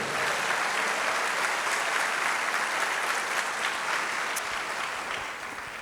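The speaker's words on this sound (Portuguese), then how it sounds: "Então aplauda esse Deus, dê glória a Ele por isso." A church congregation applauds continuously and fairly loudly for nearly six seconds, a dense wash of clapping that eases slightly at the end.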